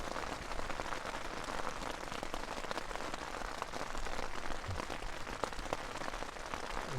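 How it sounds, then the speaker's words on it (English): Rain falls steadily on a Night Cat tunnel tent during a night camp in the Peak District, a dense, even patter of drops close on the fabric, continuous and fairly soft, with no talk. "Love the rain."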